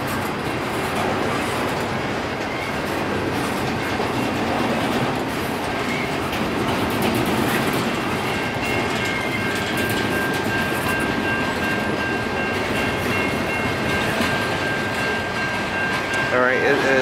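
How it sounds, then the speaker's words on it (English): An Amtrak passenger train passes close by at night on a line shared with a Norfolk Southern freight, giving a steady loud rumble and clatter of wheels on rail throughout, with a faint squeal near the end. "Should be Amtrak."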